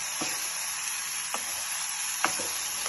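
Chicken coated in masala sizzles steadily in a pan, with a few distinct scraping strokes of a spoon stirring it at intervals, close up and with no voices.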